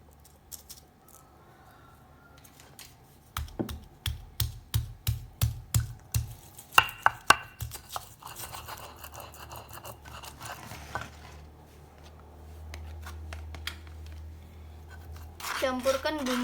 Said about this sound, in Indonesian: kita haluskan bawang putih dan garam